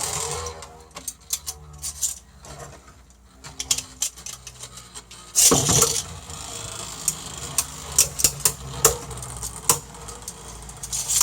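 Beyblade Burst spinning tops launched into a stadium and clashing, with a whirring, rattling spin and scattered sharp metallic clicks and knocks, plus a loud burst of impact midway.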